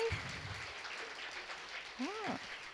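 A church congregation claps to welcome a newcomer during a Sunday worship service, a steady wash of applause from the room with a few voices speaking over it.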